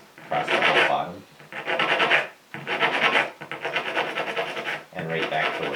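A guitar fret is rubbed flat against an abrasive surface in close, repeated rasping strokes, about five long filing passes separated by short pauses.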